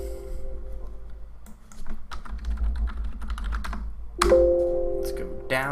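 Quick bursts of clicking keystrokes on a computer keyboard, tapping in uneven clusters at close range, with a couple of electronic beeps at the start and again near the end.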